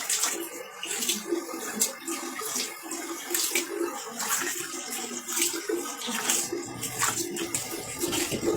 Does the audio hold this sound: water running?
yes